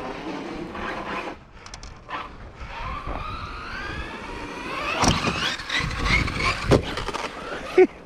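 A Team Corally Kagama 6S RC car on belted tires accelerates under throttle, its motor whine climbing in pitch, with sharp bursts and a voice speaking nearby.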